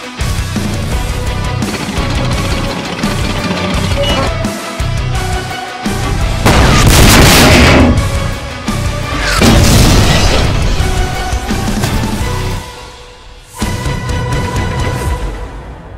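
Explosions rip through an animated tank cartoon about the KV-6, a series of loud booming blasts and crashes with rumbling aftershocks, several large bursts in a row over battle noise.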